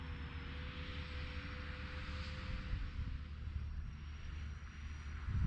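Aircraft flying with landing flaps and gear down, a steady faint propeller-engine drone with a thin whine above it, continuous and distant-sounding, no talk.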